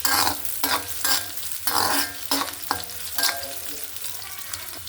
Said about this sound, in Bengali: রসুন কুচি। এটা আমি ভালো করে ভেজে নেব। ফ্লেভারের জন্য একটা কাঁচামরিচ।